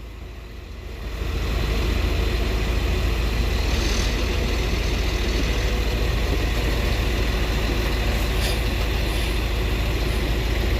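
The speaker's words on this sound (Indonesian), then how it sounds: "Tuh, didorong motor grader teman-teman" A motor grader's heavy diesel engine drones steadily while pushing during road repair, a loud, continuous low rumble that swells up after the first second and holds constant without pause.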